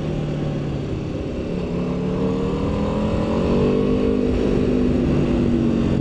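An Aprilia RSV4 1100 Factory motorcycle on standard exhaust runs on the road with a loud, steady engine drone that slowly climbs in pitch as it pulls along, with no voices.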